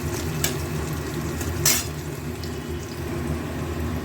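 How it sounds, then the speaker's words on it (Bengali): Onions frying in hot oil, a close, steady sizzle running throughout, with a couple of brief scraping stirs over it. "তেলের মধ্যে পেঁয়াজগুলো দিয়ে দিলাম।"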